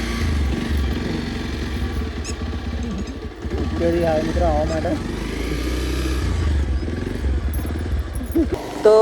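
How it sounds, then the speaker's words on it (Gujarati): Motorcycle started and ridden on a road trip: a steady engine drone throughout, rising briefly as it revs, loud and close, with someone talking over it. "તો ચલો મિત્રો અમે બાઇક આપણે સ્ટાર્ટ કરીશું"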